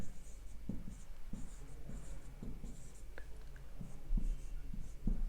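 Chalk or marker strokes on a board during a biomolecules lecture, a series of short scratchy taps and scrapes at irregular intervals, quiet and close, with faint room noise.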